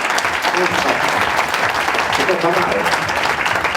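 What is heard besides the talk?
audience applause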